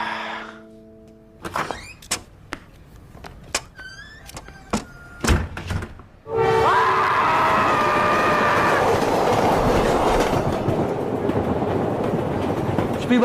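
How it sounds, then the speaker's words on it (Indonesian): A passenger train interior: a few door clunks and a rising whine at first, then the carriage rolls loudly on the rails with a steady close rumble and clatter. "Sepi banget tuh kereta."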